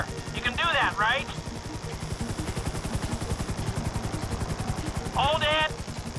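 A helicopter hovers in Grand Theft Auto V, its rotor beating in a fast, steady chop that runs the whole time, while voices speak briefly over it near the start and again near the end.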